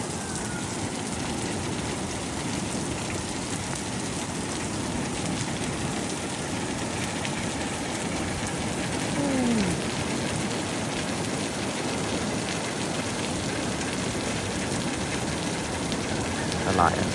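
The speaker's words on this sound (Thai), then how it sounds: "ฝนตกแบบนี้" Heavy tropical-storm rain pours down steadily in a dense, unbroken hiss that stays loud and even from start to finish, with no clear breaks or separate drops standing out.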